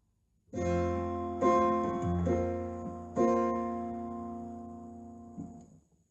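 A short melodic phrase of sustained chords, several struck one after another, closing on a held suspended fourth chord that slowly rings out and fades.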